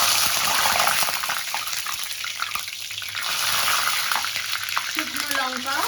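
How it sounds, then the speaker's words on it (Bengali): Whole spices, bay leaf and a pinch of salt frying in hot mustard oil, a loud, close and continuous sizzle with crackling bursts and some stirring, and a brief voice near the end. "সর্ষের তেলটা একটু গরম হলে আমি গোটা গোটা মশলাগুলো ফোড়নে দিয়ে দেব।"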